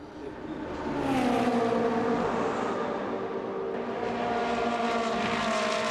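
Ferrari Challenge race cars roar past on track, a steady loud engine drone with shifting pitch as one car runs wide onto the gravel, no crunch of stones clearly standing out.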